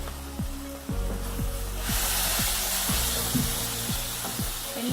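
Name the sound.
tomato paste added to frying spices, sizzling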